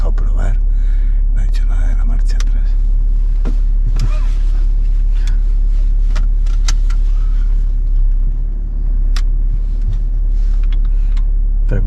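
A BMW X6 40d on a test drive gives a steady, close low engine and road rumble from inside the cabin, with occasional clicks and rattles while people talk throughout.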